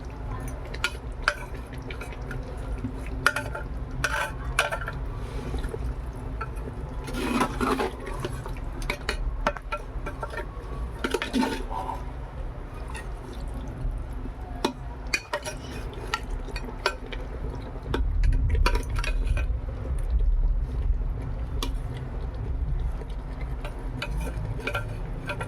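Chicken and potatoes are stir-fried in a handi, with a continuous low sizzle and frequent scraping clicks of a spoon against the pot, close and fairly loud, with no voices.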